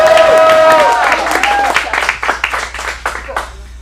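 An audience at a teen acting studio showcase in Phoenix claps together, with a voice at the start and then a burst of scattered, fairly close handclaps that thin out toward the end.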